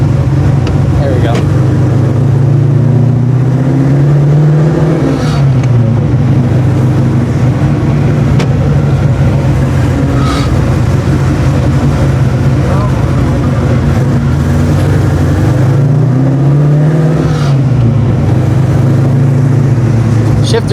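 A 1989 Mustang notchback with a freshly rebuilt carburetor drives with its engine droning loudly and steadily inside the cabin, pitch swelling twice as it revs up.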